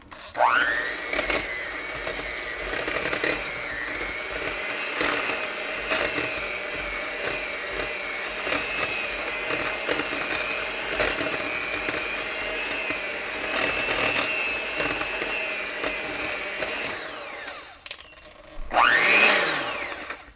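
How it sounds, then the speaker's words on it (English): A hand blender shredding warm cooked meat for pozole rojo whirs steadily at close range for about seventeen seconds, then cuts off, followed by a brief rising whine as it restarts. "So I just grab a hand blender and I just turn it on."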